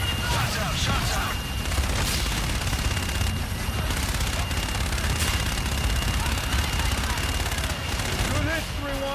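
Sustained automatic gunfire and booming explosions from the shooter game Call of Duty: Infinite Warfare, dense rapid bursts layered over heavy rumbling, loud and continuous with radio-style voices mixed in.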